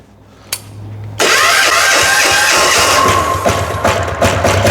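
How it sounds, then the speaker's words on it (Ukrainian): A Weima diesel walk-behind tractor engine starting in cold weather at full throttle: a brief low whir and a thump, then the engine catches abruptly and runs loud, rough and steady at high revs, close by. "запускається дизеля на максимальних обертах"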